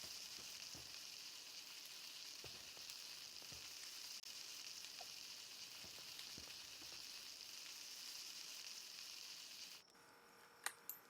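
Food cooking on a campfire in the video game Palworld, a soft, even sizzling hiss that runs steadily, then cuts off near the end, leaving a couple of faint clicks.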